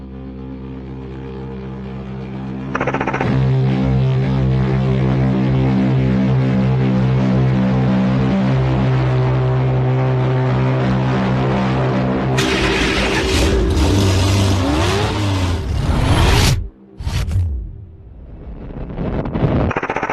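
A naturally aspirated V12 in the Nilu 27 hypercar drones with a steady layered hum that swells louder, turns into a harsh roaring burst, dips sharply for a moment, then surges back, with no talking.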